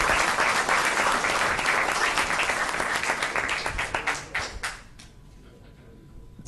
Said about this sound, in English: Round of applause for Wayne.